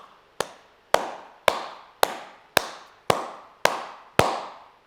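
Cupped hands clap eight times at a steady, even pace during a belly dance class, each clap a close, deep, hollow thump with no talking.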